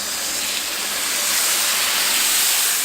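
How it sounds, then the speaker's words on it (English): Beer splashed onto a hot barbecue grill with fennel sends up a loud, steady rush of hissing steam that fills the whole moment and builds slightly as it goes. "You want to hit it with some steam."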